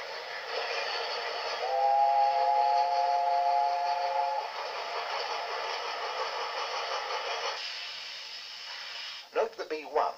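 Scottish steam train, with a B1 locomotive acting as station pilot nearby: a steady rumbling, clattering roll of railway wagons, and a sustained steam whistle for a couple of seconds early on, ending in a few heavier knocks.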